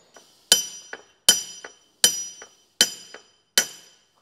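A small metal spacing washer clinks against parts while being fitted into a Sunbeam 1000HP gearbox during restoration; five bright, ringing taps at a steady pace, each with a shorter softer echo tap, close and clear with no talk.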